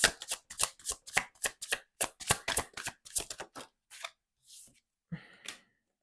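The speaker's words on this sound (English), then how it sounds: "But now I will shuffle for one of my cards." Tarot cards being shuffled in quick, crisp riffling bursts, a dense run of snappy card flicks followed by a few slower, separate slides and taps, close and fairly loud with no talking.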